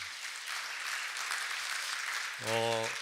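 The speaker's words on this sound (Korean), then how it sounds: "큰 박수 부탁드리겠습니다" An audience at a quantum technology conference session applauds as a panelist is introduced, moderate clapping that runs steadily, then a voice briefly rises over it near the end.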